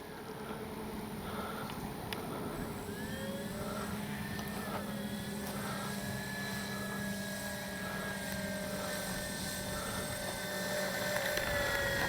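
A FlightLine P-38 1600mm RC plane flies and lands outdoors, its motors giving a faint, distant whine that rises and falls in pitch as it passes, over a low background rumble.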